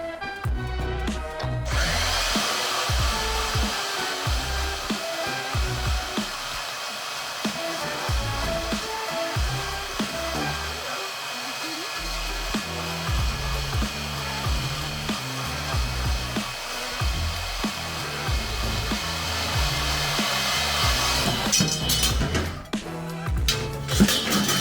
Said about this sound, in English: The easiest way to do that is actually to leave the saw in place and move the steel.